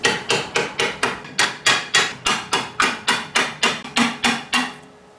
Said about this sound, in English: Definitely have to use some kind of hammer to get that off.